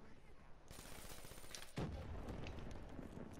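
A grenade explosion in Black Ops 3, a sharp, sudden blast partway through that is followed by a rumbling tail, with game noise running before and after it.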